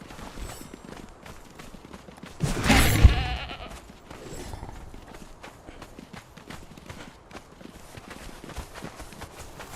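Goats bleating in the video game Conan Exiles, with one loud, wavering bleat standing out above a low busy background of footsteps and ambient game noise.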